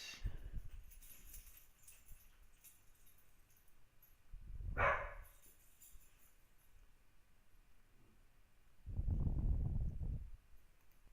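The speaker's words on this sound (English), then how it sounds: "my dogs just started barking" A couple of muffled barks from a distance, spaced several seconds apart, over quiet background hiss.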